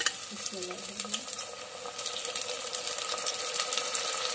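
Onions that have cooked for five to six minutes sizzle steadily in a pan as chopped tomatoes go in, with a continuous frying hiss and a few stirring scrapes while someone talks over it.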